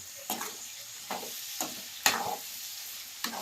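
Tomatoes frying in a pan, giving a soft steady sizzle broken by five or six scraping stirs at irregular intervals, close and fairly quiet.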